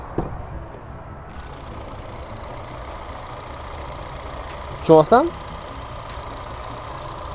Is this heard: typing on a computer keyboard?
no